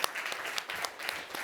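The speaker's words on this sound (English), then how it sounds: "Big applause for him." Conference audience at an investment event applauds a tech speaker, a dense, continuous patter of many hands with sharper individual claps standing out, fairly faint and distant in a large room.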